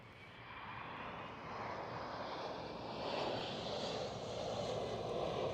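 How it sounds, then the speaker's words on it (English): A KLM City Hopper Embraer E175 airliner at Schiphol produces a continuous engine rumble and roar, building slightly in loudness toward the end, heard alone without talk. "E175 KLM City Hopper."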